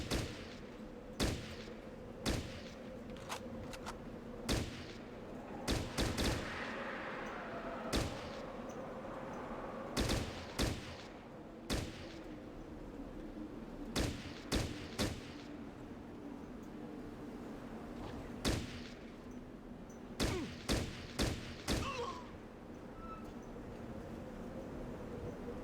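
Gunfire in Fallout Tactics: sharp single shots and short clustered volleys crack at irregular intervals over a steady low ambient hum, each report loud and abrupt against the quiet bed.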